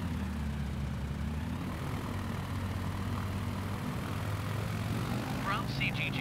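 A bush plane in Microsoft Flight Simulator, fitted with oversized tires, drones with a steady low propeller-engine hum throughout, close and constant, with a brief higher chirp near the end.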